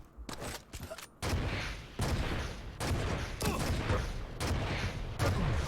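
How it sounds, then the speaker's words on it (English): Rapid bursts of rocket launcher fire and explosions in a Quake competitive match, loud repeated booms and blasts one after another with little pause, dense and continuous throughout. "look at the rocket damage come out. Good rockets by Siluro, though."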